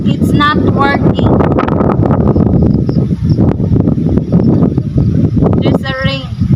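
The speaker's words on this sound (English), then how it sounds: "There's a rain and it's so windy here." Strong wind and rain sweep a cemetery in a loud, unbroken roar of rushing, buffeting noise close to the listener, while voices briefly speak over it.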